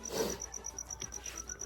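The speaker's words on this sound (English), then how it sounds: "There's a freaking cricket and he's throwing me off" A cricket chirps in a steady, evenly spaced high trill throughout, fairly faint and close, with a soft low rumble at the start and no voices.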